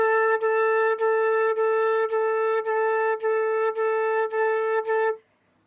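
A flute plays fast repeated short tongued notes, about a dozen crisp staccato attacks on a steady pitch. It is clear and alone, and the last note ends abruptly.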